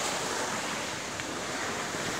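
A steady broadband rush of water flowing in a river outdoors, continuous and fairly loud, with no voices.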